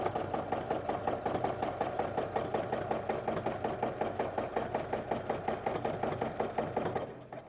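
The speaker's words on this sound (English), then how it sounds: "I'm just going to stitch over so I don't have to break thread" A domestic sewing machine runs steadily while free motion quilting over a quilt-as-you-go block, with a fast, even stitching chatter and a high whine. It is close and continuous, then stops near the end.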